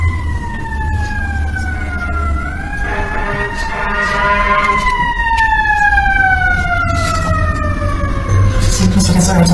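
An ambulance siren wails outside a courtroom during a Colorado evidentiary hearing, its rising and falling tones sweeping past over about ten seconds, steady and fairly loud throughout over a low background rumble.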